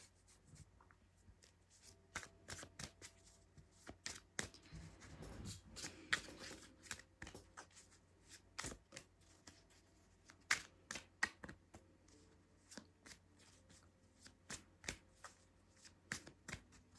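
Tarot cards from a four-seasons deck shuffled and riffled by hand, giving a long run of crisp, irregular snaps and flicks, fairly close and fairly quiet, with no talking.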